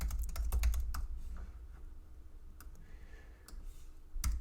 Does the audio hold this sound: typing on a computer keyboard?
yes